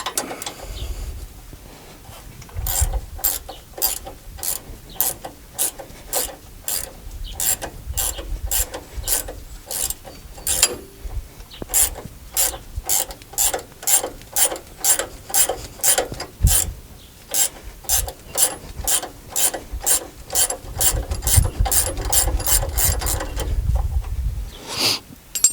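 Steady, rapid clicking of a ratchet wrench removing a bolt and nut from the front suspension of a 2017 Ram 1500 4x4, close and loud, in long runs of evenly spaced clicks with brief pauses between bursts.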